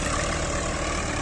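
Mahindra 575 XP Plus and Kubota MU 4501 tractors running side by side at about 2000 rpm during a pulling test, a loud, steady, heavy diesel drone filling the whole clip with no speech.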